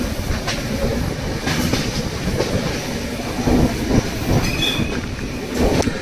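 A passenger train runs on the Vizag–Araku Valley line, heard from inside a Vistadome glass coach: a steady, loud rolling rumble with rattling carriages and brief high wheel squeals, with no talking.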